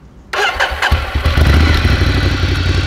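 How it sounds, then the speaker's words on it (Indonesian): Ducati Scrambler Desert Sled motorcycle engine starting: a short starter crank, then the engine catches with a loud, close burst and settles into a steady, throbbing idle. "Oke, coba kita hidupkan."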